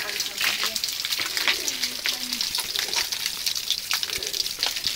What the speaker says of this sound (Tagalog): It's like raining right now.